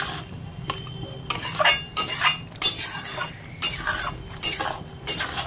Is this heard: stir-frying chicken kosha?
yes